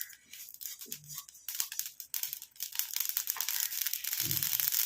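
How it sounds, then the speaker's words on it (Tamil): Tiny mustard seeds spluttering and crackling in hot oil as they fry, a dense, steady sizzle of fine pops that grows louder and busier over the few seconds, with no voices over it. "இப்போ தான் கடுகு கொஞ்சம் கொஞ்சமாக பொரிய ஆரம்பிக்குது."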